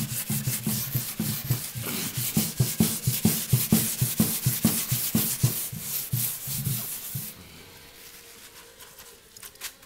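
A wooden end table scrubbed down with paint thinner, fast rhythmic brushing strokes close up for several seconds before fading to quiet rustling.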